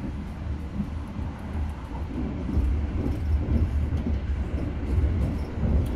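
Argo Sindoro New Generation executive-class passenger train heard from inside the carriage, a steady low rumble and rolling roar that swells slightly midway and holds loud and continuous throughout.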